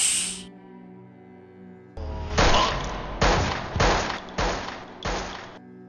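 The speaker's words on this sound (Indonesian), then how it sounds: "Haris langsung memberondong peluru kepada Inba hingga tewas." A burst of gunfire erupts after a brief quiet: several loud, sharp shots in quick succession, each trailing off in a hissing echo.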